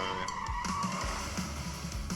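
A car skids while fleeing in a Turkish-made horror video game, the tires squealing over a low engine rumble with a few sharp knocks and no talk.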